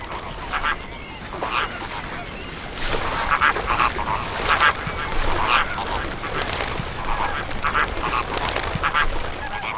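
A large flock of flamingos in a brackish mangrove swamp calls continuously, a dense mass of honking, goose-like cries from many birds at once, fairly loud and steady throughout.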